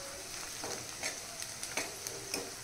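Golden-fried onion with freshly added coriander sizzles quietly in a pan, a soft continuous crackle broken by several brief stirring scrapes, close but low in level.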